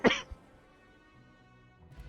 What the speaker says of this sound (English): much coughing.